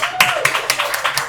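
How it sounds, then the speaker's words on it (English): Sharp claps in a steady, quick rhythm, a handful of them, at a school student-of-the-month ceremony, with a voice carrying underneath. "give you a great round of applause."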